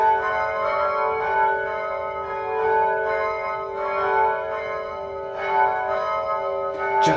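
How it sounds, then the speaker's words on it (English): Church bells ring steadily and fairly close, with sustained overlapping tones and repeated strikes swelling every second or so over faint background noise. "Just as we come up here, the bells start ringing."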